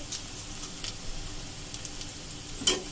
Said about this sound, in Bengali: রসুনটা ভালো করে নেড়ে ছেড়ে মিশিয়ে নেব যাতে রসুনের কাঁচা গন্ধটা চলে যায়